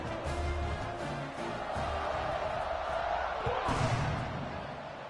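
Football stadium crowd before kickoff, a broad sustained roar of cheering and shouting at steady loudness throughout, with an announcer's voice talking over it.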